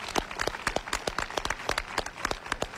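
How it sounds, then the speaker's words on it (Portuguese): Dense, irregular clapping from a small crowd of townspeople in Redondo at an outdoor street festival of decorated, flower-filled streets, steady and fairly close, with no speech over it. "começa a aplaudir o povo do Redondo"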